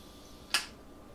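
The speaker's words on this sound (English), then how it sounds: "That was the float valve going down." An Instant Pot's float valve drops with a single quick, sharp pop after depressurizing, a faint and isolated click against a quiet background.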